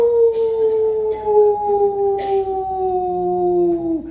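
A voice imitates a dog howling: one long, drawn-out wavering howl that slowly falls in pitch over about four seconds, loud and close, with no other sounds around it.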